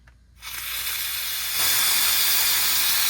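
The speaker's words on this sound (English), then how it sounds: "I'm going to release the pressure, but you have to be very careful when you do this because you could burn yourself" Steam hisses from a pressure cooker holding chicken soup as its pressure is released: a sudden loud rush after a brief quiet moment that grows stronger about halfway through and holds steady.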